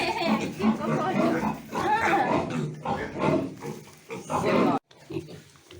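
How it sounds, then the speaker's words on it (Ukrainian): Piglets on a farm grunt and squeal in a busy, overlapping chorus close by, with people talking over the animals throughout. "Зніму вам ще трошки поросяток."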